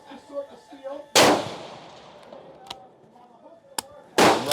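Two sharp, loud Steyr Scout rifle shots crack outdoors several seconds apart, each with a decaying echo, with faint voices murmuring and small clicks in between.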